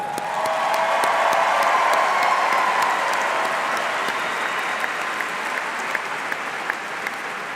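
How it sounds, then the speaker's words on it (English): Sustained, dense applause from a large crowd at a University of Kentucky commencement ceremony, steady and full throughout with a few sharper individual claps standing out near the end. "One more round of applause."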